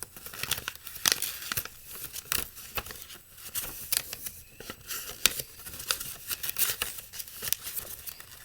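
Sheets of origami paper rustle, crinkle and snap in quick, irregular bursts while being unfolded and smoothed out, close and fairly loud, with no talking.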